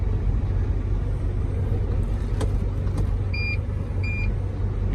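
A car engine rumbles steadily at idle, then two short electronic beeps sound a moment apart as it shifts into reverse.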